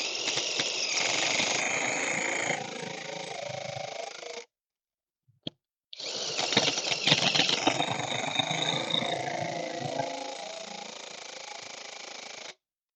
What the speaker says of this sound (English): Alright, so it's been tightened down with the 961, 899 trying to remove.